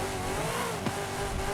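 A Porsche engine in Forza Horizon 5, with power eased on so it accelerates: a steady, sustained engine drone with a rising tone at moderate level, slightly gritty throughout, with no talking.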